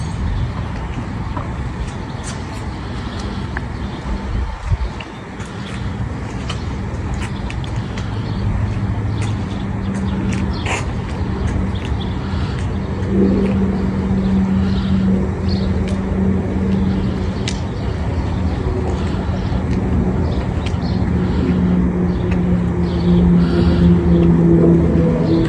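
A 1965 Factory 5 Shelby Cobra Mk3 replica runs with a steady, loud engine drone that holds for the whole stretch, with a slight rise in the later part and no talk over it.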